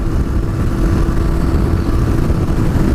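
Yamaha motorcycle engine running steadily up close, a loud continuous low rumble with no change in pitch or rhythm and no voices.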